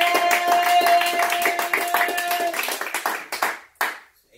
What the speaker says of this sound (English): Clap it up, Mama Pocket!